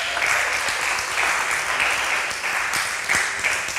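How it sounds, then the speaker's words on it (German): A crowd claps for a talk during a PowerPoint karaoke session, sustained dense applause filling the whole stretch at an even level, with no speech on top. "Bitte gebt uns jetzt den Applaus für die dritte Präsentation"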